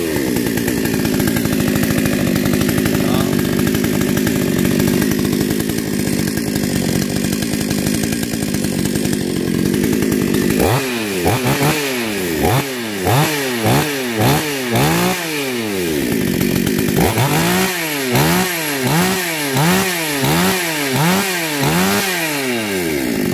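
Kavi G750 chainsaw running after being started, a loud steady idle that then revs up and down repeatedly in quick bursts, very close with no talk.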